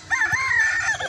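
A single Shamo rooster crow, a short strained call heard close up with no voices around it.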